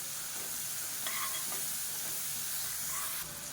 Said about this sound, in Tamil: இப்போ இஞ்சி பூண்டு நல்லா வதங்கிடுச்சு